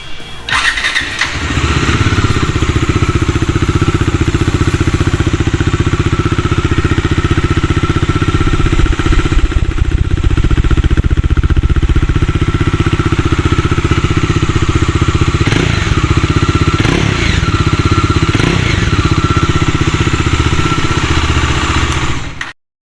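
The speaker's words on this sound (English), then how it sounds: "Let's hear its exhaust note." A 2022 Bajaj Dominar 400 motorcycle fires up and then runs its exhaust at a steady, loud idle with a deep, even throb, close by, before cutting off abruptly at the end.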